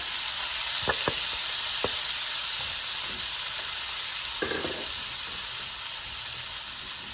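Cherry tomatoes sizzling in hot butter with garlic and onion for a simple fettuccine pasta, a loud, close, steady frying hiss with a few light stirring clinks and taps on top.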